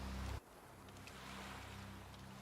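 Ocean waves wash steadily in the Baldur's Gate 3 game world, a continuous mid-level surf with a low drone beneath it, no voices present.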